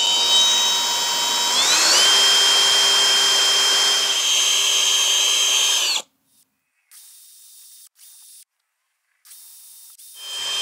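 A power drill bores holes into a Kawasaki Z400 engine case, a loud, steady whining buzz whose pitch rises partway through, then stops abruptly, followed by short separated bursts of drilling with gaps of silence.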